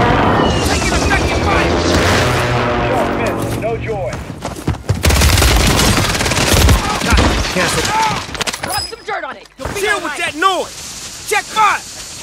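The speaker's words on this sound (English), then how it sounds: "Enemy precision airstrike. Find cover." Precision airstrike explosions in Call of Duty Warzone on Rebirth Island come as loud, dense booms and rapid blasts. A burst of gunfire and crackling follows, with in-game voice callouts over it.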